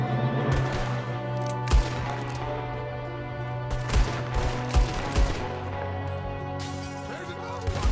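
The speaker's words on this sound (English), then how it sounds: "There's another one shooting from the window." Gunfire in the snowy Red Dead Redemption 2 game world, several sharp shots scattered over eight seconds among music and other game sound, with voices speaking over it.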